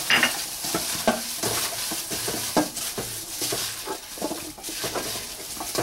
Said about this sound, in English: And mix this up.